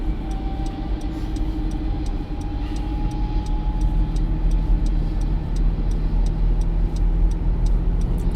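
Steady road rumble of a car cruising on a highway heading toward Rockefeller Center, continuous engine and tire noise with a faint whine, no talking.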